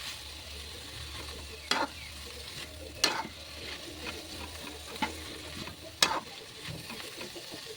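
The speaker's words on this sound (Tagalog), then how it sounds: "Halo-haloin natin at kumuha ko ng pang resback na sandok para hindi magtalunan yung kangkong natin" A ladle stirs water spinach (kangkong) and ham in a pan, giving a handful of distinct metallic clinks and scrapes at irregular intervals over a faint, steady sizzle.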